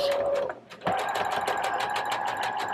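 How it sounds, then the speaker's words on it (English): A sewing machine stitches fabric at a tight 1/8-inch seam, joining a pocket to dress side panels, running in a fast steady whir with a brief pause near the start, close and loud. "I'm sewing."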